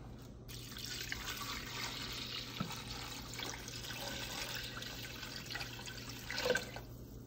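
Water is poured from glasses into a pan holding mutton for a yakhni stock, a steady running splash that is moderately loud and continues throughout.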